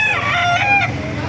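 A rooster crows once at a busy chicken market, a loud, close, drawn-out call with rising and falling pitch over faint background bustle.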